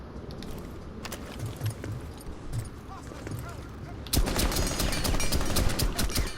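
Gunfire in the video game Rainbow Six, starting as scattered distant shots and growing into a loud, dense burst of rapid fire in the second half, with some faint background noise.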